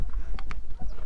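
Horse hooves clip-clop during a trail ride near Cusco, Peru, a few uneven knocking steps close by over steady outdoor noise.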